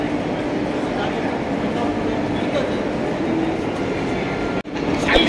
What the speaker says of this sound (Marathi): जस्ट ट्रेन निघाली आहे